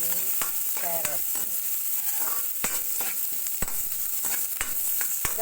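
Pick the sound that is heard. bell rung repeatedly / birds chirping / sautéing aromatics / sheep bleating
sautéing aromatics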